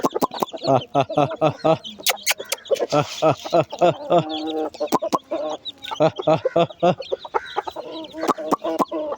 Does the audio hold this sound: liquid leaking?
no